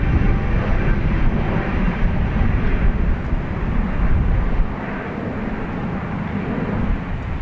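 An ATR turboprop airliner climbs out from an airport runway in a gusty crosswind, its engines giving a loud, steady, broadband drone that eases slightly toward the end.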